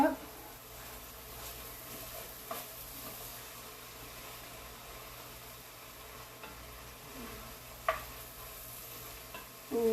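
Steady stirring of homemade cream of mushroom soup in a pan, a soft continuous scraping and sloshing with faint sizzle beneath, a few sharper clinks of the spoon against the pot near the start and end.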